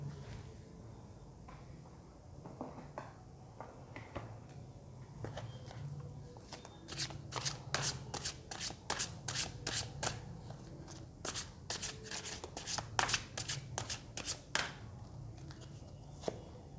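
Tarot cards are shuffled by hand, giving quiet rustling at first, then quick, crisp riffling snaps in rapid rhythmic bursts, recorded close and fairly faint.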